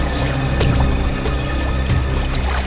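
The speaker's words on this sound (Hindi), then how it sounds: "इस तरफ से पानी के बहने की आवाज आ रही है" Water flows and trickles steadily somewhere nearby in a dim passage, a continuous broadband wash with faint splashy pours and no voices.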